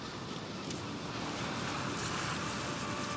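Ocean surf rolls onto a beach in a steady, broad wash of breaking waves mixed with wind rumble, close and continuous without talk.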